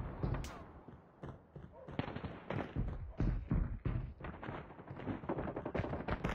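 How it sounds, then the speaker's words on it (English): Grenade blasts and gunfire in the mobile shooter Call of Duty Mobile, a dense run of sharp bangs and thuds in quick succession, with game voice callouts mixed in. "Watch out, grenade!"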